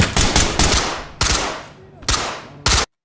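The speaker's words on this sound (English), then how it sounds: "there was some gunfire coming from that area" Loud gunfire in a tactical shooter game sounds in several sharp automatic bursts, each clattering volley followed by a decaying echo, up close with no talking.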